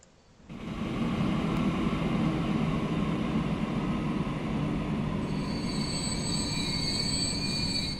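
A video game train in Transport Fever rumbles steadily with rolling wheel noise, and high metallic wheel squeals join toward the end; continuous and fairly loud, no voices.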